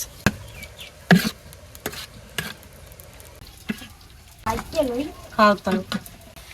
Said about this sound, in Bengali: এই চুলায় শাক বসাই দেয় তেল দিয়ে দিলাম রসুন কুচি দিয়ে দিলাম পিঁয়াজ কাঁচামরিচ